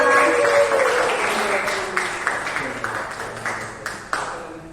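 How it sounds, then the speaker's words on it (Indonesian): An audience claps at a Ramadan community contest event, applause starting full and then thinning into scattered individual claps as it fades over a few seconds. "Tepuk tangan dulu semua."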